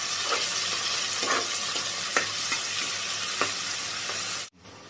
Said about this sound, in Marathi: तेल चांगलं गरम झालं की त्याच्यावर आपण कांदा घालून घेऊया